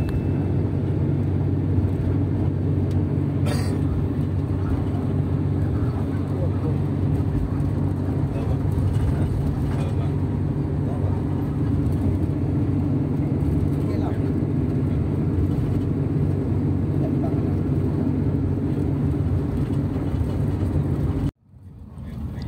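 Inside an Akas Mila Sejahtera economy bus cruising a toll road near Madiun and Nganjuk in East Java, a constant low engine and road drone fills the cabin, broken by a brief dropout near the end.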